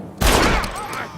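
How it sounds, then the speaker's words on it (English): A single loud gunshot in Red Dead Redemption cracks out sharply and rings off in a short echoing tail. "Marvelous shot, dear boy."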